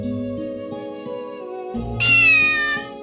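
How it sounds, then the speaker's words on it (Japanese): Cat meowing in the Shining Blade PSP video game, a sustained tonal meow rising over layered game music, heard clearly for about a second near the end. "あ、あんなところに猫がいる。"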